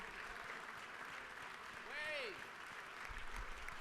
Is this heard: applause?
yes